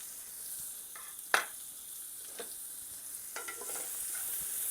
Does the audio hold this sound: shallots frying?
yes